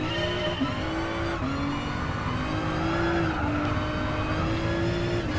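A race car driven in a sim racing game with a seven-gear setup, its engine droning loud and steady with rising pitch through gear changes, accompanied by tire noise and no talking.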